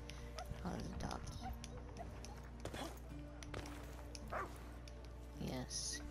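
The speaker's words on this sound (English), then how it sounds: "Oh, the dog." A dog in the video game Dauntless barks and yips in a few short bursts, nearby and moderately loud, with people talking over and between the calls.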